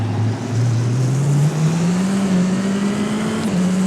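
Tatuus FT-60 race car engine in the rFactor 2 racing game at Hampton Downs, a steady loud drone rising slowly in pitch as the car accelerates through a long pull, with no talk over it.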